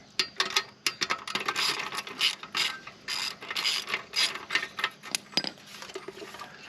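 Ratchet wrench breaking loose a 10 mm exhaust clamp on a 2024 Kawasaki ZX6R 636 during a slip-on muffler install: quick bursts of close metallic clicking in uneven runs, with short pauses between strokes.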